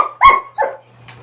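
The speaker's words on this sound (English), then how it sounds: "Don't bark at her, will you?" A dog gives two quick, close barks, the first louder and the second shorter, with a faint whiny note trailing after them and no voices.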